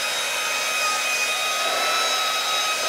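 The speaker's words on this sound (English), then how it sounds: "And that's a hair dryer" A steady, even whooshing hum of a hair dryer blowing close by, unbroken from start to finish with no voices.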